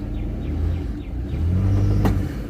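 A Pontiac G6 convertible's engine revs steadily as the car is put in gear and pulls free, a continuous low rumble rising in intensity, with a brief higher whine near the end.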